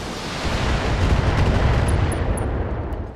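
A heavy burst of Gauss rifle and LRM fire from a mech in the Battletech video game, a loud rumbling blast that swells and slowly fades over a few seconds, with small high pings near the end.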